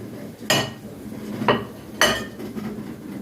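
A utensil stirs a cauliflower mixture with green coriander and garlic in a bowl, striking the sides in three sharp clinks with scraping between, close and fairly loud.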